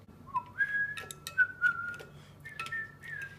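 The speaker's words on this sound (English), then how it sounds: "Is that someone whistling?" Someone whistles a short, wavering tune of sliding notes, fairly close, with faint clicks and taps scattered around it.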